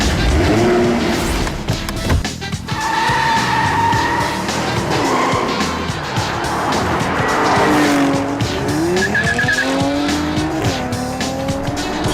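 A car driving off hard with tires squealing and skidding, loud and close, the engine rising through revs as the screech of rubber drawn out over several seconds.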